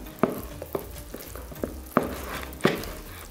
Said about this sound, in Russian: Хорошенечко перемешиваем, чтобы не было никаких комочков.